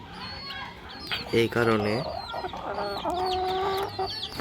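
A rooftop-farm hen with her chicks clucks in short, close bursts, rising to a louder squawking run, while someone speaks briefly nearby.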